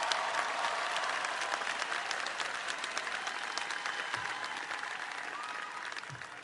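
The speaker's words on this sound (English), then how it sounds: "Give them a round of applause" An audience applauding at a university commencement in a large hall, a dense steady wash of clapping that carries on evenly and slowly fades a little.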